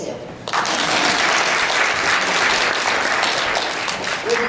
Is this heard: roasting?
no